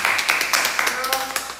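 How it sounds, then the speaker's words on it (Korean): A few people at a K-pop group's livestream clap together in a quick, uneven rhythm of sharp claps, close and fairly loud, mixed with bright voices and cheering. "박수!"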